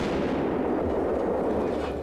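Missiles launch from a gadget leg cast on a GoldenEye film set, a dense, roaring blast of rushing noise that stays loud and steady for about two seconds.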